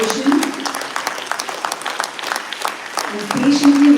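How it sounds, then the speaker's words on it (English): An audience claps in a steady round of applause with dense, even hand claps, while a voice speaks faintly underneath. "we need to give a big round of applause to both the children, for Nitila for cooperation,"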